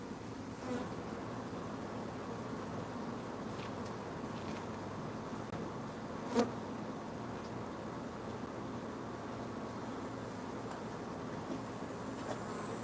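Honeybees buzzing steadily around an open hive, a dense, even drone throughout with one brief knock partway through and no voices.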